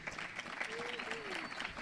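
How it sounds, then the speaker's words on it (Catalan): An audience claps at a live talk event at a university, a steady wash of applause at moderate volume with a voice faintly underneath. "Aplaudiments."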